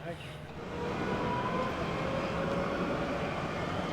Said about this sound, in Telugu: తైవాన్లో ట్రామ్ ట్రైన్ చూడండి